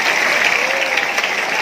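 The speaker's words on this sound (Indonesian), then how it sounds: "Tepuk tangan buat Bapak Usman" Applause for Bapak Usman at an Islamic sermon gathering at Bahrul Ulum Awipari: steady, dense clapping from a crowd, loud and continuous through the whole moment with no voices over it.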